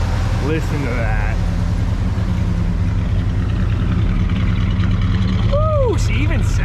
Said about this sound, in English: Listen to that true dual exhaust.